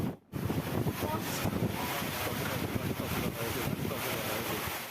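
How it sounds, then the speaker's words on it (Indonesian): Heavy rain and strong wind batter a wedding tent in Polorejo village, a dense roar of wind and downpour buffeting the microphone continuously after a brief dip at the start. "rekaman video detik-detik tenda pengantin diterjang hujan deras disertai angin"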